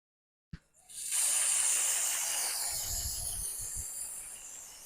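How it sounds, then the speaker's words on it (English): A makeup setting spray hisses in one long continuous misting burst close by, starting after a click and holding steady with a faint low rumble beneath. "This spray is so good, man. Just spray, spray, spray"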